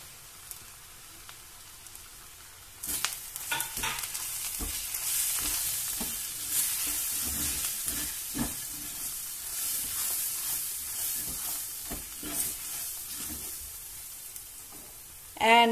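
Dry spices hit hot oil over lowered heat with green chilies for methi paneer bhurji, bursting into a loud, steady sizzle that persists with light stirring clatter; no talking.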